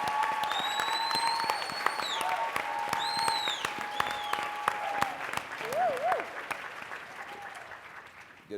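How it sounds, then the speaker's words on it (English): Audience at a political movement gathering applauds for a congresswoman: dense, steady clapping with scattered whistles and cheers, close and full, slowly thinning toward the end. "Please give a round of applause for the congresswoman out of our movement"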